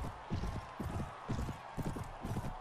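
A horse gallops in the video game Mount & Blade Warband, with quick, rhythmic clip-clop hoofbeats repeating in steady bursts at a moderate, fairly quiet level.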